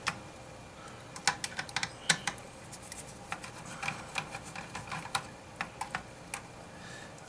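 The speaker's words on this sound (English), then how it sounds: "That way I can get inside here with a screwdriver to loosen all that up." Small metallic clicks and ticks from a screwdriver loosening screws inside a 1000W American Legacy Series 2 LA690 car amplifier during repair, sharp and irregular, close up and alone.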